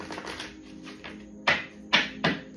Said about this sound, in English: So let me get it a good shuffle.